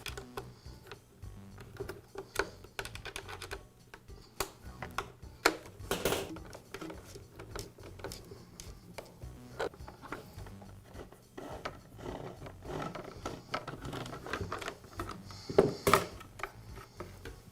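Small screws holding the muffler cover of an Echo leaf blower are backed out, producing faint close ticking, scraping and rubbing of metal and plastic in a quiet room with no talking.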